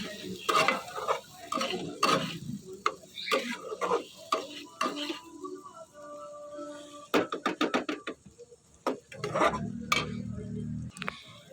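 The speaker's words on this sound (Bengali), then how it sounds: "ডিমটা দিয়ে একটু ভালো করে নেড়ে চেড়ে নেব" Eggs stirred into sizzling spice paste in a pan for egg curry: irregular spoon scrapes and clinks against the pot over a soft frying hiss, with quiet gaps between bursts of stirring.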